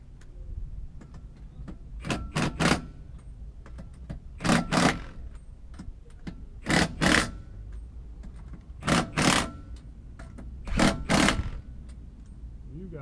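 Impact gun tightening a ball joint on a Jeep Gladiator (JT), firing in short paired bursts of rattling hammering, about five bursts spaced a couple of seconds apart over a steady low background hum.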